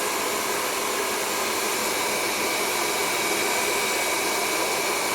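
A hair dryer blows steadily at close range while drying long hair around a brush, a loud, constant roar with no pauses and no talking.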